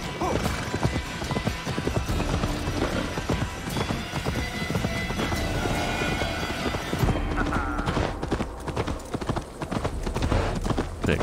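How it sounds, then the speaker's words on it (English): Horse galloping in the video game Assassin's Creed Valhalla, with dense rapid hoofbeats and an occasional whinny over loud game music and ambience, steady and close throughout. "Go, horsey, go."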